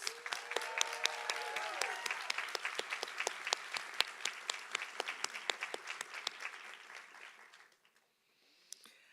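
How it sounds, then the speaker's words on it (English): A large audience applauds at a nursing school diploma, pinning and awards ceremony, dense sustained clapping filling the hall for about seven seconds before fading to near silence, with a brief final clap. "let's give your supporters, your community in the room with us today a large round of applause"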